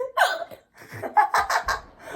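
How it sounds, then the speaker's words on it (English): Several sharp hiccups burst out mid-laughter, each a short voiced gulp followed by giggly breathing and chuckles, close to the microphone and fairly loud, spaced irregularly across a couple of seconds. "I need you to keep the mouth shut when you hiccup. It sounds demonic."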